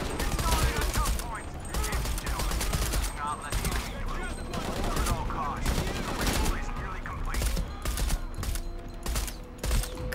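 Gunfire from the video game Shadow of the Tomb Raider rings out in bursts over a dense, continuous game soundscape with mechanical clanks and creaks.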